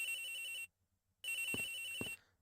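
A phone ringing in the Ace Attorney Investigations video game, two electronic ringtone bursts separated by a short silence, clear and steady with no voices.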